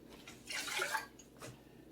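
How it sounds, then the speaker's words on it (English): Water poured into a Smackalicious sauce mix: a brief, faint splashing pour lasting about half a second, then a few quiet drips, with no one speaking. "I'm going to put a little water in there."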